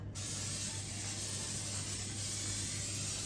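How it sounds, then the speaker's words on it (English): Cooking spray hissing from a can onto a pan for pancakes and eggs, a single steady close-up spray lasting a few seconds with no talking. "Let me see you spray all of the corners."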